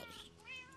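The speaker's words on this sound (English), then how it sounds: "I don't like all these cat sounds I'm hearing." A wither cat in a modded Minecraft game gives one short, faint, warbling meow, heard alone.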